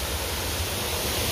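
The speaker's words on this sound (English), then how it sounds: "right around here I believe is an actual waterfall" Waterfall at Kings Dominion amusement park, a brief, steady, full rush of falling water heard up close without voices.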